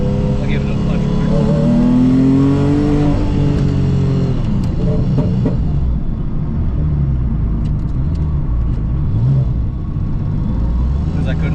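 A Porsche Cayman S with a 4.1L engine accelerates hard on a road during a Porsche Parade ride-along, a loud rising engine roar and rumble from inside the car with people talking over it.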